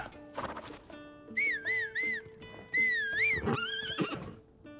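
A rider's whistle in The Legend of Zelda: Tears of the Kingdom, several short wavering whistled notes in a row answered by a horse's loud whinny and a few hoof clops, close and clear with no talk.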